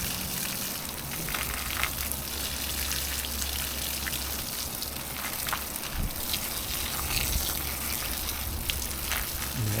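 Water is sprinkled over garden plants around a fig tree, a soft continuous patter and trickle with scattered drips, fairly faint and steady throughout.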